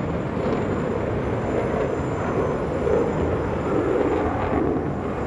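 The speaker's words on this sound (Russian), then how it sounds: "На глазах у зрителей истребитель выполнил несколько фигур высшего пилотажа." A T-50 fifth-generation fighter jet flies aerobatic manoeuvres before a crowd, giving a steady, loud roar of jet engine noise that swells slightly as it passes.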